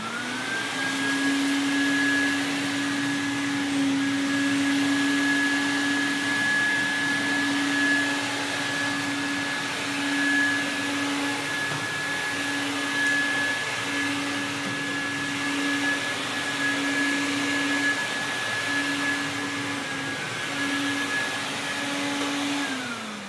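A Quantum X vacuum cleaner runs continuously at close range, a loud steady motor whine with a sustained tonal hum and rushing airflow, holding even throughout with no talking.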